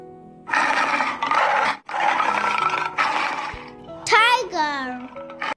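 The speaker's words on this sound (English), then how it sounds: "T for tiger." Tiger roar for the letter T in an alphabet lesson, a loud, drawn-out growling roar that rises, dips and swells again over several seconds, followed by a brief higher voice.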